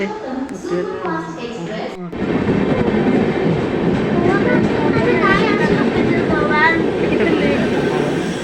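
A train pulls into a station: a steady, loud rumbling roar with rail noise and a faint squeal builds after a short pause and continues to the end, with a few voices near the start.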